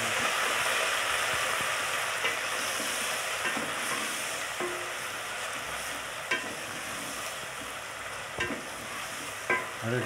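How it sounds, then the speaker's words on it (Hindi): Browned onions fry in a pan with a steady, loud sizzle, and a spoon stirs them with a few soft scrapes and taps against the pan, close by, with no talk. "हम इसमें ऐड कर रहे हैं, प्याज जो है ब्राउन हो गए हैं।"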